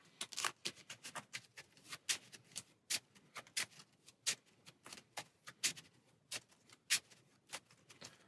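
Three game cards from a Marvel Champions card game are shuffled into a deck, a quiet run of close, crisp riffling and tapping flicks in uneven bursts, with no talk over them.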